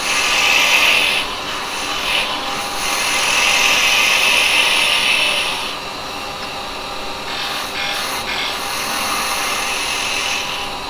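Carbide chisels cutting wood spinning on a lathe give a steady scraping, rubbing hiss that swells and eases in long strokes, close by and with no speech.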